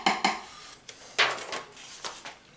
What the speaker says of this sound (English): I'm going to pour one of these trays, the celery, the onions, the carrots,